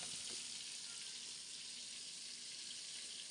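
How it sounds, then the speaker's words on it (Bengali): Shrimp frying with teasel gourd and coconut in hot oil, a steady dense sizzle close by that holds evenly throughout without talk. "কাঁকরোল নারকেল চিংড়ি মাছ দিয়ে ভাজবে"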